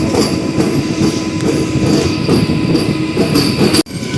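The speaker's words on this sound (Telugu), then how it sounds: "ప్లాట్ఫామ్ నెంబర్ 1 పైకి అయితే మన ట్రైన్ వచ్చి ఆగింది" A MEMU commuter train pulls in and halts at platform 1 of Tanuku railway station, a close, loud rattling rumble with wheel clatter and squeal that cuts off sharply near the end.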